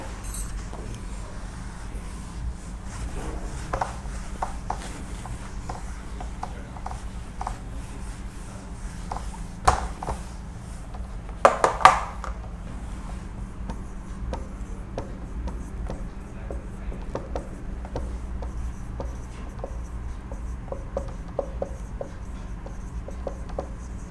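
Writing on a board during a lecture: a long run of soft scratching and tapping strokes, close and fairly quiet, with a few louder clacks and rustles partway through and no speech.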